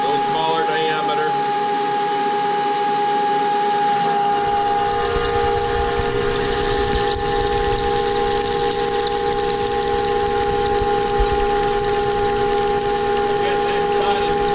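A Standard Modern 2080 lathe takes a 600-thousandths cut at 21 thousandths per revolution. It runs with a steady mechanical whine and tonal hum, and the cutting adds a rougher, louder grind partway through. Someone talks over it.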